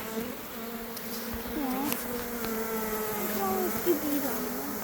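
A honeybee swarm buzzes steadily as bees enter a hive, a dense insect drone with individual bees whining past close to the microphone, moderately loud throughout.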